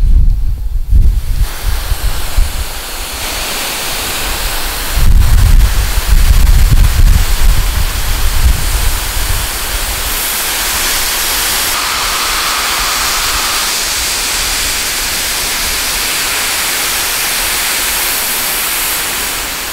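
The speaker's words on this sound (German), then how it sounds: "Ich habe das Hohlstrahlrohr noch auf Sprühstrahl gestellt." Fire hose hollow-jet nozzle set to spray during a youth fire brigade drill, giving a loud, steady broadband hiss and rush of water that runs unbroken for about twenty seconds with no voices.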